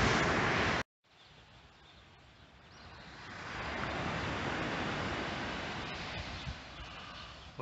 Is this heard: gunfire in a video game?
no